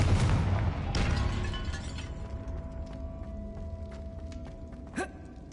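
A Confringo fire-blast spell explodes in Hogwarts Legacy with a sharp shattering burst, then a second crack near the end, over a fading rumble and a faint sustained magical tone.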